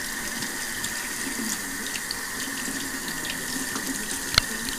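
Water runs steadily from a faucet into a sink while catfish are cleaned, a continuous hiss with a brief sharp clatter near the end.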